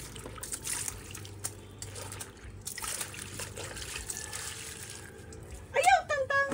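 Water is poured at home, trickling and splashing in bursts under a spoken voice, with a louder gurgling pour near the end.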